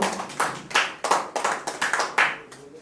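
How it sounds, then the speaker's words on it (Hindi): Claps from a small audience welcoming a guest at a business pre-launch event, heard as a series of sharp, fairly close hand claps in an irregular rhythm with no talk. "मैं एक बार जोरदार तालियों से स्वागत करना चाहूंगा"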